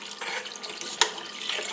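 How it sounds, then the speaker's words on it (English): Water running from a tap into a pot on the stove for citrus marmalade, a steady close splashing hiss with one brief sharp knock partway through. "then we're going to add 6 cups of water"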